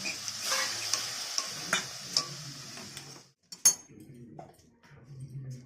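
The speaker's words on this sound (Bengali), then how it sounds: "এক প্যাকেট সুজি এক বাটি জল দিয়ে" Semolina cooks with water in a pan on the stove while a spoon stirs and scrapes it, with a soft, steady sizzle under close clinks and scrapes, a brief gap, then more quiet stirring.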